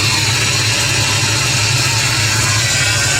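A 5.0 V8 engine idles with a steady, low, throbbing rumble, constant and close throughout, with no voices.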